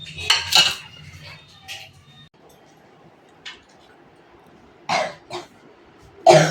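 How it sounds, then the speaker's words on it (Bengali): A metal pot knocks and clatters in a few sharp, close bursts as tea is set on to brew, with a cough and throat clearing nearby and quiet gaps between the clanks. "এবার আমি চাটা বসাবো।"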